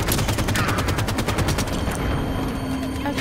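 Rapid automatic gunfire from the Halo 5: Guardians video game, a loud, dense stream of shots rattling continuously for about two seconds before tapering into a lingering hum.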